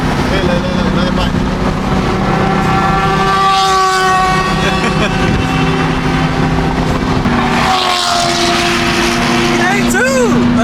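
A loud BMW E92 M3 exhaust roars and drones steadily, its pitch rising and falling as it revs nearby amid traffic noise.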